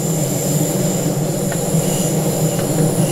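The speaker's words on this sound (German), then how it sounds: "jetzt hier unsere S-Bahn, die hier jetzt vorbei saust" An S-Bahn train in Train Sim World 3, a BR 442 on the Köln–Aachen line near the Köln depot, rushes past with a loud steady rumble and faint wheel squeal throughout.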